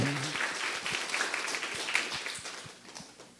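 A church congregation claps during a Sunday service, a dense burst of applause that thins and slows toward the end, with a voice briefly audible at the start.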